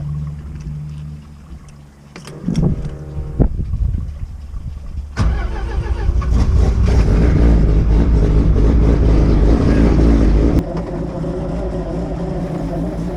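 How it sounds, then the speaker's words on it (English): After some clunks and handling noise, a boat engine starts and runs loud, rough and uneven, sputtering for several seconds before the pitch drops slightly. "Honestly, the engine doesn't seem right."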